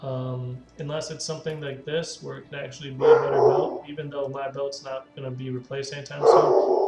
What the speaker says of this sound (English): I'm sorry about the dogs barking in the background here.